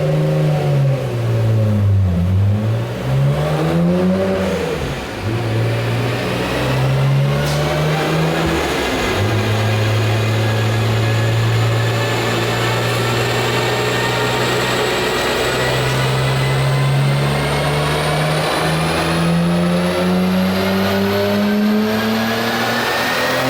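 A car strapped to a chassis dyno is warmed up and pulled hard, its engine revving loudly and steadily with rising and falling harmonic tones across a long continuous run, close and dominant with no talk.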